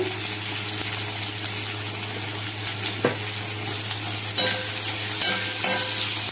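Sliced onions and green chillies sizzle steadily in hot oil already seasoned with bay leaf and cumin, a continuous frying hiss with a few spoon scrapes and stirs.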